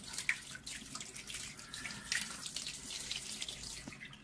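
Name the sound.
water running over a telescope mirror while cleaning it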